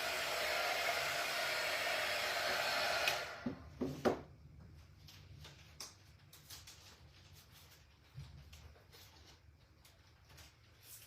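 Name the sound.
hair dryer drying a craft door hanger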